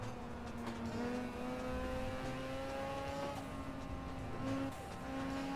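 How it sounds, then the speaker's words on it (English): A race car lapping a circuit, its engine note dropping as it downshifts once for a corner, then pulling again. The engine drones steadily from inside the car, with a shift audible partway through. "Right, need to downshift once for this corner."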